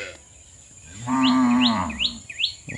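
Cattle let out a long, loud, resonant moo nearby, with a series of quick bird chirps rising behind it as the call ends.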